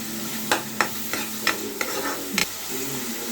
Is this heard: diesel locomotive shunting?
no